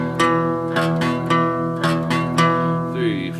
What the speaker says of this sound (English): It's a power chord with the octave in it